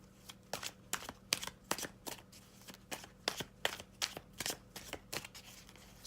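Tarot cards are shuffled during a reading, producing a quick series of crisp riffling bursts and soft slaps in an irregular rhythm, close and fairly quiet.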